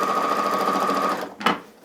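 A domestic sewing machine runs a steady, fast stitch through a quilted seam with wadding, a loud close whirring hum that stops abruptly, followed by a brief clunk and fading mechanical noise.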